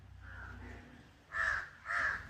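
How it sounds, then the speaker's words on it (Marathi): Jungle crows give three harsh caws: a softer one first, then two loud, close calls in quick succession over a quiet background. "आपण बघत आहात किती आवाज करतात हे कावळे."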